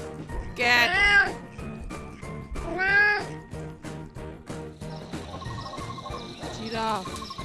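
A cat meows three times at uneven intervals, loud and close, over a faint chirping of insects or crickets in the background.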